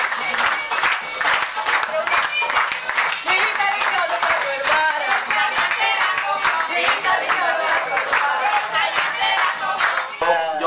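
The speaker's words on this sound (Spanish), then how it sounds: "¡Ayúdenme con las palmas!" An audience claps along in rhythm during a small folk dance demonstration in a rural community in La Guajira, with steady hand claps joined by voices and music-like tonal sounds throughout.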